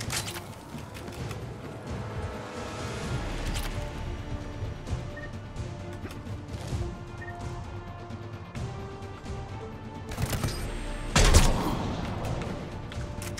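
Rapid gunfire from Mass Effect 3 combat, with dense bursts of shots running steadily throughout under a busy game soundtrack, and a louder crash or impact near the end.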